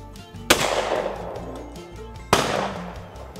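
Two loud, close shotgun blasts about two seconds apart at a sporting clays range, each a sharp crack followed by a long booming echo that trails off outdoors.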